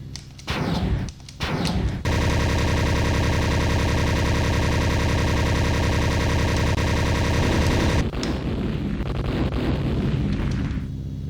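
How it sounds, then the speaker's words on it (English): Rockets firing at enemy aircraft in the Linux Air Combat flight game, escorting B-26 bombers: a short burst, then a loud, dense, sustained roar of launches from about two to eight seconds, easing into a fainter rumble. "I've got rockets. Heck, yes, I'm gonna rocket these guys."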